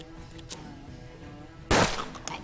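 A single loud gunshot from a golden pistol in the turn-based game Hard West cracks out sharply after a quiet stretch, followed by a brief echoing tail.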